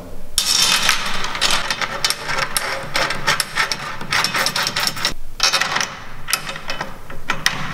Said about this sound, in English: put this drum head on, the hoop on, and I'll just whiz through and put all these little tension rods in as well